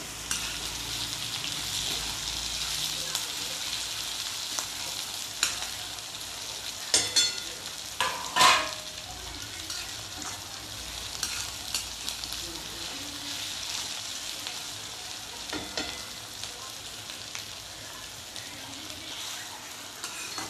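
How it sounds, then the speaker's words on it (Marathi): Tomato sizzles steadily as it is sautéed in a pan for whole masoor dal, with soft frying crackle throughout and a few scraping stirs of a spoon, close and alone. "हे पण छान असं व्यवस्थित परतून घ्यायचं आपल्याला"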